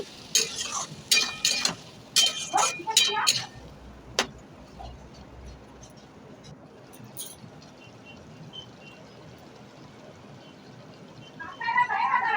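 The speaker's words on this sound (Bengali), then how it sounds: "এবার ভালো করে নাড়াচাড়া করে নেব" A utensil stirs mourala fish curry with Kashmiri chili powder in a pan, starting with a few seconds of busy scraping and clatter, then fading to a faint, steady sizzle.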